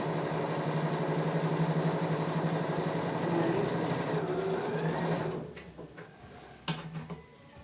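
A sewing machine runs in a steady, fast mechanical whir while stitching fabric for a children's hair band, continuous and close for about five seconds before stopping, followed by a few faint handling clicks.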